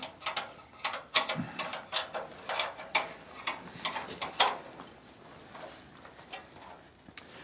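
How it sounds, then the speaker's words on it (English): Ratcheting metal clicks from a wrench tightening the diagonal support nut on a chain sawmill, a quick irregular run of sharp ticks and small clanks at close range with no talk. "So I started by tightening the diagonal support first because it will prevent it from sagging down on the end."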